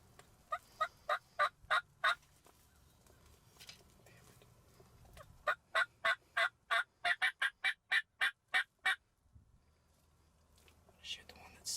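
Wild turkeys gobble during an Iowa turkey hunt, giving loud, rapid rattling strings of calls from birds nearby, two long bursts separated by a pause, while hunters whisper quietly underneath.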